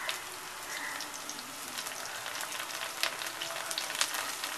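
Chili, onion and coriander for pumpkin soup sauté in a hot pan, giving a faint, steady sizzle with scattered crackles and pops and no talking.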